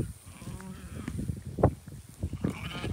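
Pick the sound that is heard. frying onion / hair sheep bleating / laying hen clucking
hair sheep bleating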